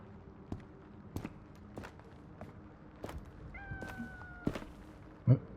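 A cat meows in the survival video game Road to Vostok, a few drawn-out wavering cries sounding faintly amid soft footsteps and scattered thumps inside a quiet outpost.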